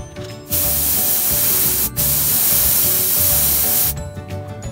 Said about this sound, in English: Let's add a little spray.